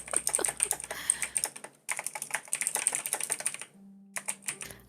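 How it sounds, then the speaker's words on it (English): Rapid, loud clattering of keystrokes on a computer keyboard, picked up close by a gaming microphone, running in bursts with a brief pause midway. "He has like one of the loudest pickups for his mic when it comes to his typing."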